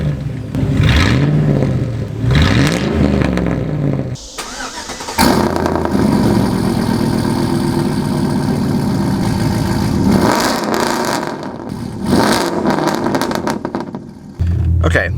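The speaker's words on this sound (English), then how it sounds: "we're gonna give a cold start of the truck so you guys can hear what it sounds" A Chevrolet Silverado pickup fitted with a very loud aftermarket exhaust cold-starts with a cranking burst, then settles into a deep rumbling idle broken by several hard revs, each roaring up and dropping back, close and loud throughout.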